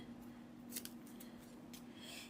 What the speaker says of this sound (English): Make sure you get a nice sharp scissor to cut it down.